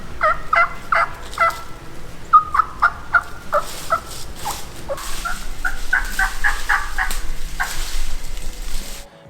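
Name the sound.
turkey mouth call clucks, purrs and yelps imitating feeding flock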